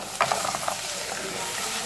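Smoked sausage frying in a pan with onion and garlic gives a steady, moderate sizzle, with a few brief stirring scrapes early on and no talk.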